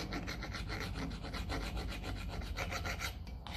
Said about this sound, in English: we'll just hit it with the file because it'll all make a difference getting that off